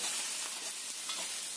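Fried potatoes and tofu being stirred in a pan with sweet soy sauce, giving a steady soft sizzle with faint scraping of the stirring, close and continuous with no talk.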